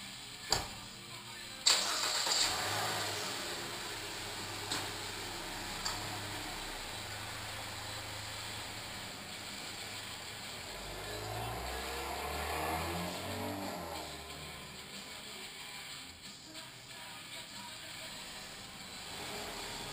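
A Dodge Dart's engine cranks and catches after a couple of sharp clicks, then idles low and steady before revving gently as the car pulls away, fairly quiet and at moderate distance.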